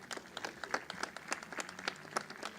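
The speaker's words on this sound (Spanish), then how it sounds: "Ahí está, fuerte el aplauso." Scattered applause for Malvinas war veterans at a commemorative ceremony, individual claps distinct and uneven, faint and somewhat distant.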